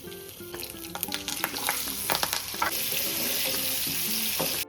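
Steady, loud sizzling of food frying in a hot pan for chicken biryani, with crackles and occasional clinks of a utensil stirring, no talking.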